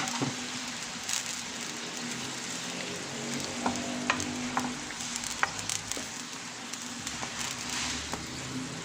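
Egg noodles sizzle in a hot frying pan as water goes in, giving a continuous close crackling fry with scattered stirring clicks and sharp pops throughout.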